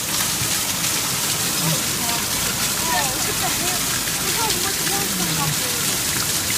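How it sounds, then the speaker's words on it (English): Hail pelts down in a dense, steady hiss and patter during a storm, constant for the whole stretch with voices talking faintly underneath. "Holy snot, really? It is hailing."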